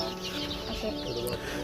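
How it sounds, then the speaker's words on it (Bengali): Local backyard chickens on a Garo Hills, Meghalaya farm, sick with bloody dysentery, cluck softly and continuously nearby in a brief burst of overlapping calls. "এই দেখতেছেন এগুলো আমার লোকাল মুরগি"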